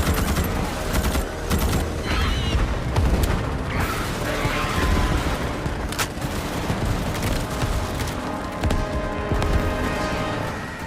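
Dense, relentless combat fills Helldivers 2, the Starship Troopers–style shooter, as rapid gunfire bursts overlap with heavy booming explosions in a loud, chaotic wall of sound with no pause.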